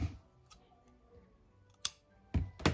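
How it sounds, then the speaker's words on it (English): Scissors trim string in a few sharp snips near the end, crisp and close against a quiet room with soft handling noises. "And I'm going to trim it right there."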